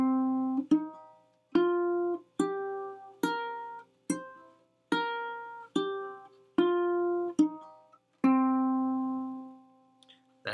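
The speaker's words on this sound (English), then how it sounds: "That's the C blues scale." A C blues scale picked note by note on a ukulele, about ten clear plucked tones in an even, slow rhythm, each ringing briefly before the next, close and alone with no talking.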